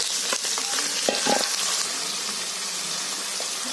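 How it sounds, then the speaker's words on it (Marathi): Goat tripe (vajri) frying in a little oil in a Konkani home kitchen, a steady broad sizzle with a few brief stirring scrapes early on, close and even throughout, no talking. "त्याच्यामध्ये आता वजरी टाकते शिजायला।"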